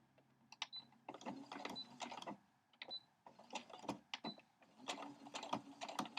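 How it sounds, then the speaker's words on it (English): A sewing machine stitches a straight quarter-inch quilt seam on a Dresden plate block, quiet rapid bursts of needle clatter in several runs separated by short pauses. "I'm just going to sew straight down this one side."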